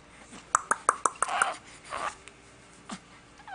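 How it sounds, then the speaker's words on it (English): A baby's hiccups, a quick run of about five short, soft hiccup sounds close together, followed by a few fainter breathy noises and a later single hiccup, close and quiet. "Got baby hiccups right now"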